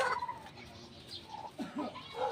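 Pet chickens feeding on cracked corn make soft, close clucks and murmurs in scattered short bursts over a quiet background, with no talk.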